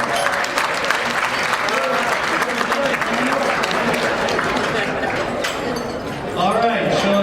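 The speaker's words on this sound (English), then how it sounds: "How about a round of applause for that?" A crowd at a Robert Burns birthday celebration put on by a pipe band breaks into loud, sustained applause, with voices and a few shouts rising through the clapping, especially toward the end.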